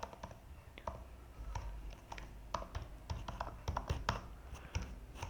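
Steady typing on a computer keyboard while writing SQL, with irregular clicks and key taps clattering close and fairly soft, no voices.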